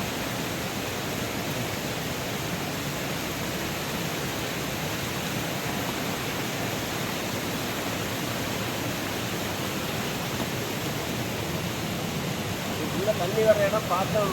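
Steady broadband rush of a waterfall in a mountain setting on a trek, constant and fairly loud throughout, with a slight swell near the end.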